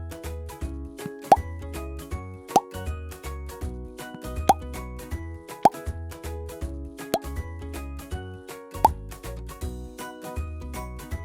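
Six Oreo cookies are counted out and set down one at a time, each landing as a soft, evenly spaced plop over steady background music.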